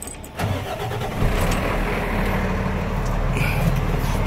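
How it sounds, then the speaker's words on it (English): A truck engine cranks briefly and catches, then settles into a steady, close idle rumble that continues to the end, with no voices. "go ahead and fire the truck up."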